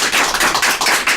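Applause from an audience at the Saint-Amarin carnival for the outgoing carnival queen: dense, close clapping at steady loudness with slight surges, and no talking.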